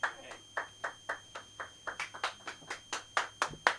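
Steady, evenly spaced hand claps, about three per second, crisp and close, growing slightly louder toward the end with no talking.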